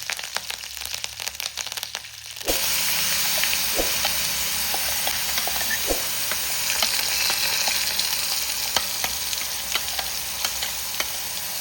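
After a brief quiet start, hot oil bursts into a loud, steady sizzle and crackle as spices and spicy kara chutney are tempered in a generous amount of oil in a pan, with occasional stirring clicks.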